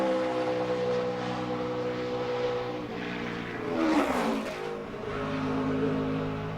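A NASCAR Sprint Cup stock car accelerates out of a corner during qualifying at Pocono, with a loud rising engine roar and a sweeping whine near the middle as it pulls away, followed by a steady drone.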